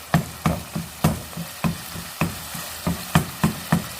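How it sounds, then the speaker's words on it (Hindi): Tomatoes roast and sizzle in a hot pan while being stirred, a steady frying hiss broken by regular scraping strokes of a spoon about every third of a second, close and loud with no voices. "टमाटर को इसको मैं अच्छी तरह से रोस्ट करूंगी"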